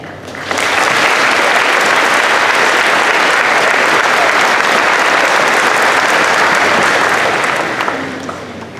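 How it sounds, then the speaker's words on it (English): A graduation ceremony audience bursts into loud, dense applause that swells in quickly, holds steady for several seconds and then tapers off at the end. "Please take a moment to join me in applauding your families for their support in your journey to and celebration of today."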